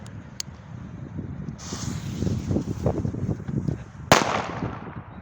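Wind and rustling fill the background, then a single sharp firecracker bang (Piratka or Grom 1 type) cracks out near the end outdoors before New Year's Eve, with a brief snap earlier.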